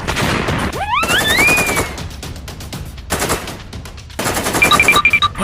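Bursts of rapid machine-gun fire come from the Siren Head gun-head monster in a video game, loud and close, broken by short pauses and a rising whistle-like tone.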